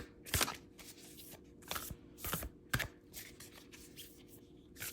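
A Solitary Witch Oracle card deck being shuffled by hand, crisp riffling and slapping bursts repeating unevenly several times, close and fairly loud over a quiet room.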